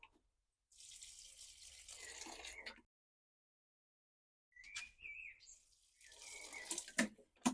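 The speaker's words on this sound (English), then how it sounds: "And then I'm going to give him another water." Water poured from a can or tap onto seedlings in a greenhouse, two bursts of splashing separated by a quiet gap, with faint bird chirps in between.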